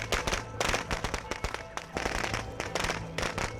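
Rapid firecracker explosions in a video game crackle and pop in dense, irregular bursts, loud and close, with a tonal game music bed underneath.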